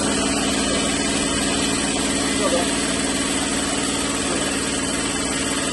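A Prodif 100-litre air compressor runs with a steady, loud mechanical drone and hum that holds constant throughout, with no breaks or pauses.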